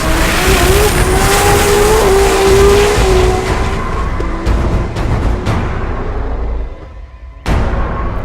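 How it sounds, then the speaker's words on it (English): Two Microtech-injected 2JZ drag race cars, a 5-second Scion and the low 6-second Blue Destiny, roar loudly at a sport compact drag event, with high engine revving and a sharp sudden burst near the end. "The 5-second Microtech Scion lines up against the low 6-second Blue Destiny in a battle of the Microtech injected 2JZs."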